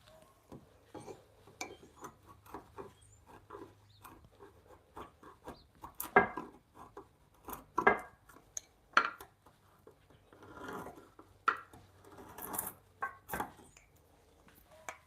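Hand tools working timber for a wood-on-wood joinery bunk bed frame, evening out small dados: scattered sharp taps and scraping knocks at uneven intervals, close and moderately quiet, with no talk.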